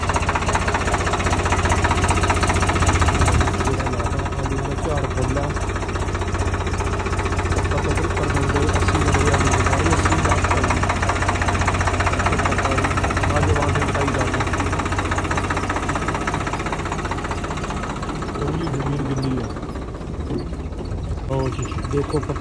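A Swaraj 843 tractor drives a potato digger across a field, its engine a loud, steady, low-pitched rumble with a slight knock that runs throughout, with voices faintly present beneath it.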